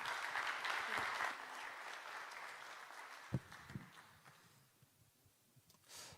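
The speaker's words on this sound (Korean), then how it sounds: "박수로 환영하겠습니다." A church youth congregation claps to welcome a pastor, the applause swelling at first and then thinning into scattered claps and fading, with a faint voice underneath.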